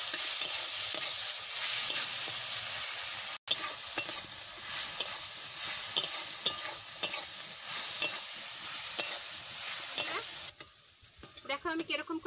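Garlic paste with coriander and cumin spices sizzles in hot oil for fish kofta, a steady fry with frequent scraping stir strokes, close and fairly loud, no talking.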